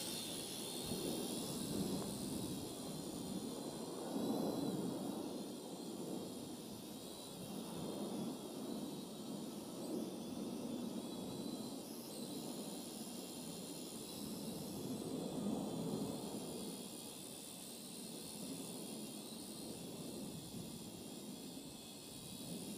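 A GoolRC T5W Pro foldable drone flies nearby with a steady high-pitched whine and hiss of its motors and propellers, continuous and fairly faint, with no talking.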